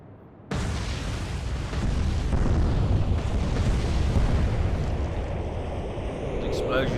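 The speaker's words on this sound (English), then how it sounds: "Explosions everywhere." Naval explosions in the Battle of the Atlantic warship game Atlantic Fleet, with Kriegsmarine ships in combat: a sudden boom opens a dense, sustained, loud rumbling roar that persists throughout.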